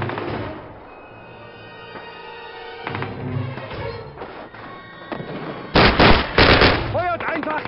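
Gunfire rattles through a Call of Duty battle, dense bursts and sharp cracks building to loud, close volleys near the end, layered over game speech and ambient combat noise.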